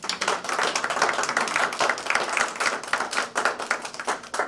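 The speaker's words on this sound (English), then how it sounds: "I like to applaud him for being here this morning" Breakfast audience at a Chamber of Commerce event clapping for a U.S. Senate candidate: a dense, steady round of many hands applauding continuously in a room, with no talk over it.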